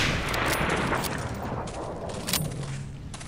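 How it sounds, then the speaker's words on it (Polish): Gunfire and explosions in the video game Medal of Honor Allied Assault, a dense roaring barrage of shots and booms, loud and continuous without talk. "Patrzcie, ruszę się i strzały."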